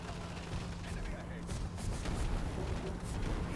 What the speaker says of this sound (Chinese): 后面的迫击炮啊